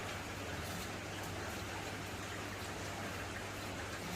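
Steady rain falls on a vegetable garden of herbs such as basil, a dense, even hiss of drops on leaves and surfaces that stays constant throughout, close and without voices.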